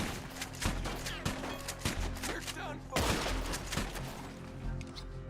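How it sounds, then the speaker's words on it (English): Varmint rifle shots in the video game Red Dead Redemption 2, a rapid series of sharp cracks over a busy game mix with a voice talking in between. "Not a lot of kickback on the varmint rifle."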